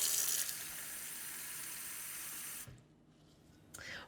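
Warm water from a kitchen tap runs steadily into a container for proofing yeast, a close hiss that stops near the end before a brief final splash or clink.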